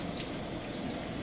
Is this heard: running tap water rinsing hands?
yes